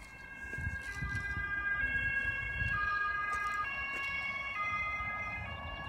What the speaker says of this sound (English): That is a police car.